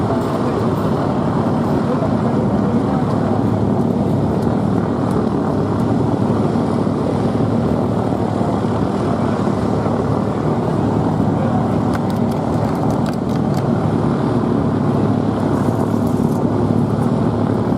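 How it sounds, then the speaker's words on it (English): An RAF Chinook tandem-rotor helicopter climbing and rotating in a corkscrew manoeuvre at an air festival, a steady broadband roar of rotors and engines heard at a distance, continuous and unchanging throughout. "The aircraft will climb skyward into the Gorney corkscrew, rotating and climbing to 800 feet."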